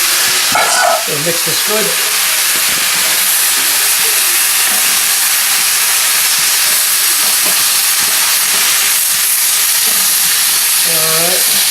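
Tomatoes go into a venison osso buco mixture in a hot pan, giving a steady sizzle and hiss with stirring scrapes. A voice speaks briefly over the cooking.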